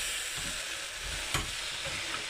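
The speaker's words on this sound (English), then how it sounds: "you can hear it sizzling" A cauliflower meal sizzles in a pan while being stirred, a steady close frying hiss with soft scraping strokes and one brief louder clink, no voices.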